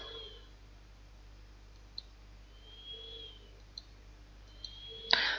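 A few sharp, faint clicks spaced over a quiet background, ending with a slightly louder pair of clicks.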